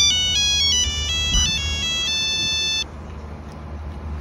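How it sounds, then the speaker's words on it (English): A mobile phone ringtone plays a bright repeating electronic melody for close to three seconds, loud and clear over a low background rumble, then cuts off abruptly. "Like my phone is ringing."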